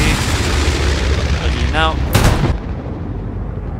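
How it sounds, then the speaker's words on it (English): Artillery fires in the Hell Let Loose video game at El-Alamein, with heavy continuous rumbling noise and one sharp boom near the end before the roar drops away; a voice briefly speaks midway. "Okay, 6 more rounds going out, buddy."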